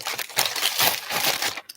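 A bag is handled close by, giving loud crisp crinkling and rustling in quick irregular bursts for a couple of seconds.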